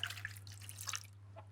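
Water poured and dripping into an emptied coconut milk can while making rendang in a home-style cooking setting; soft, close liquid trickles and drips over a steady low hum, with no talking.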